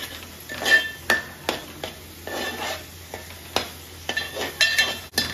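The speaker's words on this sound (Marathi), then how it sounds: "तर आता पूर्ण प्रकारे मिक्स करायचं चांगल्या पद्धतीने" A spoon stirs turmeric and Agri Koli masala into a sour dried Bombay duck fish curry in a pot, making repeated scraping clinks against the metal over a faint sizzle. The sound is close and irregular, with no talk.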